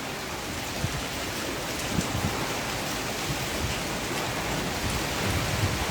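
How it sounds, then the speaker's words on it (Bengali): Cold, heavy rain pours down with gusty wind during Cyclone Remal over the Bay of Bengal, a dense, steady hiss of drops on surfaces that swells slightly in places, close and loud with no voices. "আর গায়ে বৃষ্টির জলগুলো পড়ছে, মনে হয় যেন বরফের টুকরো এসে গায়ে পড়ছে"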